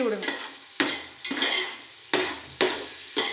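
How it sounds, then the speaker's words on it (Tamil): Biryani masala of ginger garlic paste, tomato and onion being stirred as it fries in a pan, with repeated spoon scrapes every half second or so over a steady close sizzle, no voices. "நல்லா கிண்டி விடணும்."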